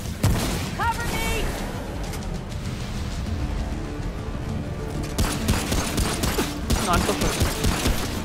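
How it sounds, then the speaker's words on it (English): Rapid gunfire rattles in Remnant: From the Ashes, a steady volley of shots with sharper bursts toward the end, mixed under players talking. "Why you keep shooting at me?"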